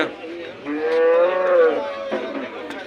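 A well-kept buffalo moos once at a livestock market, a loud, close, drawn-out low call lasting over a second, rising and falling, with faint market noise around it.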